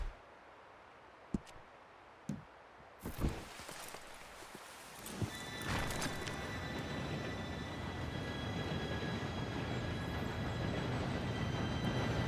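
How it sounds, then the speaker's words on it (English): In the Red Dead Redemption 2 game, a train approaches with a rising, steady rumble building from near quiet, preceded by a few scattered clanks and footsteps, then a sustained loud roar of rolling wagons. "Train should be here any minute now."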